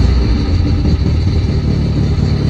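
A 1967 Volvo 1800S engine runs steadily just after start-up, a loud close low rumble with an even idle and no voices.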